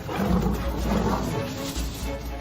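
Lions roar and growl while attacking buffalo in the African wild, a loud, continuous, deep rumbling snarl close by with overlapping throaty roars.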